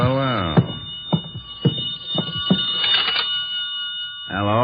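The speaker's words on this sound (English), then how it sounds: "I could hear the phone ringing from somewhere inside" A telephone rings repeatedly in an old radio crime drama, about half a dozen evenly spaced rings heard fairly close, with a voice speaking just before the first ring and again as they stop.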